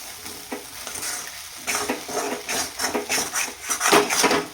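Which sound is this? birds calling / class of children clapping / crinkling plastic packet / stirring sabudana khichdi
stirring sabudana khichdi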